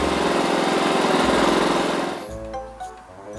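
A portable 2.3 kVA inverter generator runs loudly with a steady buzzing engine drone, then the sound abruptly drops away to quieter faint clatter and rattles near the end.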